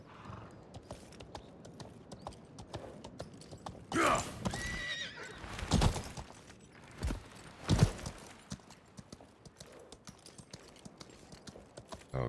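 A horse in the video game Highguard clip-clops steadily along, its hooves thudding in a continuous rhythm, with loud whinnies and snorts breaking through midway.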